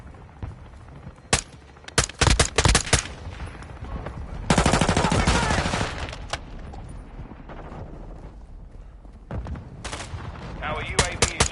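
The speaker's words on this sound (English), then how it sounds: "Hostile mortar strike near your position." Mortar strike explosions and heavy gunfire erupt in Call of Duty: Modern Warfare 2, with several sharp loud blasts and a longer roaring barrage in the middle, then more bursts near the end, under intermittent game voice announcements.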